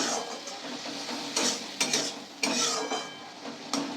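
A spatula stirs spice paste thinned with water in a pan for a fish curry, making repeated scraping and clattering strokes in an uneven rhythm over a faint simmer, close and moderately loud, with no talking.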